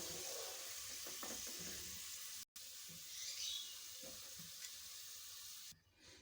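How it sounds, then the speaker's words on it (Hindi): Sliced onions frying golden in hot oil for beef nihari, a continuous bright sizzle and crackle with faint stirring scrapes, close and steady, dropping out briefly once before resuming. "प्याज को सुनहरा गोल्डन फ्राई करना है।"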